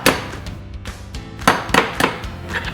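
Eggs are cracked for an omelet in a home kitchen, giving a quick run of sharp taps and cracks at close range, several in irregular succession, with no voices.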